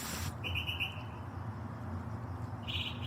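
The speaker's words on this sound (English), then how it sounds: "There are some loud fucking birds. And it's the middle of the night." Loud birds call in the middle of the night, with a short burst of high chirps near the start and another near the end over a steady low background hum.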